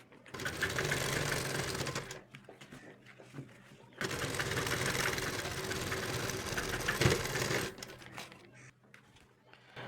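A sewing machine stitches elastic onto a salwar in two long, loud bursts of fast mechanical whirring, with a short pause between them and faint handling noises afterward.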